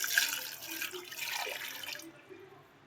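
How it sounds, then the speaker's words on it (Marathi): Water splashes and pours steadily into a metal pressure cooker holding raw mangoes for about two seconds, then stops, leaving a quiet tail. "आता यामध्ये 1 ग्लास पाणी घालायचं आहे"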